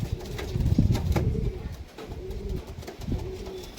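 Tippler pigeons cooing close by, a run of low, soft, throaty coos rising and falling across a few seconds, with no talk over them.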